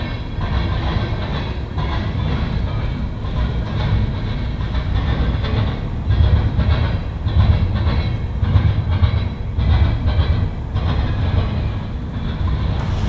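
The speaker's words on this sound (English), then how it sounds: "What's these intermodal cars doing on a mixed freight train?" A northbound Norfolk Southern mixed freight train with intermodal cars rolls past in Marion, Ohio, a steady loud rumble of wheels and cars with rhythmic clatter that swells slightly midway, no voices.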